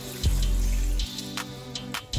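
Water pours steadily into a pot of meat being cooked for Nigerian egusi soup, a continuous close splashing rush with a few brief clinks and knocks near the end.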